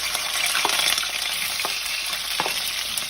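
Sausage fries in a Dutch pot for a seafood cook-up: a steady, loud hiss of sizzling fat with a few scraping stirs of the utensil, and no voices.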